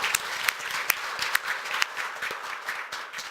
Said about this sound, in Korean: 여기 실세가 계시니까 박수 한번 해드립시다